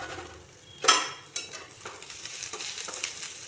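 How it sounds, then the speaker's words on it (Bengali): Bay leaf, chopped ginger, cloves, peppercorns, cardamom and cinnamon frying in a pan on a low flame, with a soft steady sizzle, a sharp clatter near the start and a few light stirring scrapes. "এগুলোকে লো ফ্লেমে ভাজতে হবে।"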